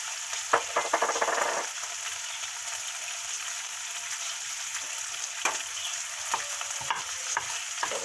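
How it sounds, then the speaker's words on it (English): Bacon frying in a pan for biscuits and bacon gravy, a steady broadband sizzle of rendering fat with a few sharp scrapes and stirring clicks early on, close and continuous with no talking. "It's also going to release its own"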